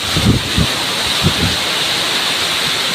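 Strong wind with rain roars in a steady broadband rush, with low gusty buffeting thumps hitting the microphone near the start.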